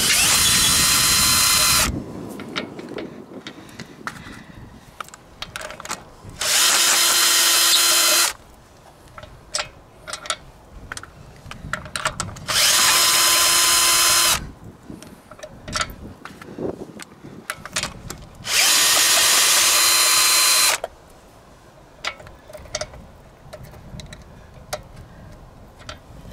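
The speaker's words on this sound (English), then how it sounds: "I'm going to use the electric screwdriver to undo them fully." Electric screwdriver undoing the brake disc bolts on a VW Eos, four loud whirring bursts of a few seconds each, separated by quieter pauses with clicks and handling noise, close with no talking.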